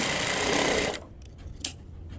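A sewing machine stitches a blouse hook strip in a quick loud run of needle clatter that stops abruptly, followed by a short mechanical click.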